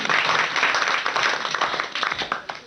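A studio audience breaks into brief, dense applause at a Hindi variety show, a short burst of steady clapping close and loud.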